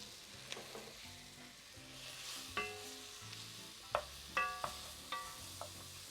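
Spices, cardamom pods and tomatoes are stirred in a pot for machboos in Bahrain. A soft sizzle runs underneath, broken by several sharp clinks and scrapes of the spoon against the pot.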